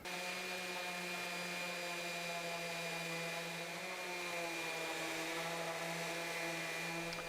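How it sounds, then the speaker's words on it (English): A power sander works 60-grit paper over wooden fence pickets for a rustic lantern, a steady close whine with a constant motor hum and a gritty rasp holding even throughout, with no voices. "And I'll run through these and let's start sanding."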